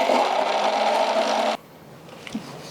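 A kitchen mixer grinder whirs loudly while grinding dry masala paste with no water, then cuts off abruptly after about a second and a half, leaving quiet room noise with a small clatter.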